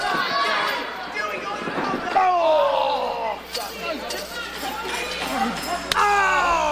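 A wrestling crowd at a cage match cheering and chattering in a dense, loud roar with rising shouts and whistles, lasting throughout with an excited commentator talking over it.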